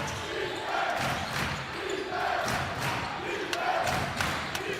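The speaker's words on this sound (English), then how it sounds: "Really loud crowd here at the Max Stern Athletic Center" A loud crowd roars at a college basketball game at the Max Stern Athletic Center, a continuous dense wash of cheering with rhythmic swells and scattered sharp thumps of the ball on the court.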